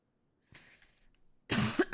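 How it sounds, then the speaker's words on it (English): A man coughs close to the microphone: a short, faint throat-clearing rasp first, then a loud, harsh burst of two or three coughs after a brief pause. "I keep coughing so much."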